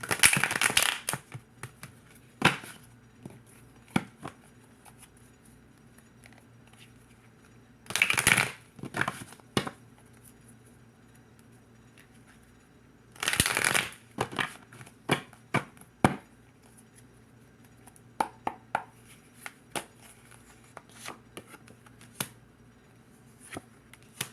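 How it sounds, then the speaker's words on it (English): Tarot cards are shuffled in several brief papery bursts of riffling and rustling, close and fairly quiet, separated by softer taps and handling noises. "Let's give it a shuffle."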